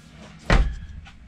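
The bunkhouse door of a 2020 Grey Wolf 29TE travel trailer closes with a single sharp, solid thud partway through, against a low room hum and faint background noise.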